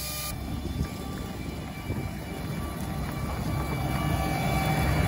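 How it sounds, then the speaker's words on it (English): Rye seed blown from an air seeder tank down to the shanks on a farm field, a steady loud whooshing roar of fan and moving seed that builds slightly, with no talking. "you can hear the rye coming out of the tank now"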